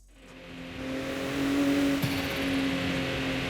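A car engine fitted with a race intake in Forza Horizon 5 revs and holds a steady, loud drone with a strong harmonic tone and a brief sharp blip midway, then carries on.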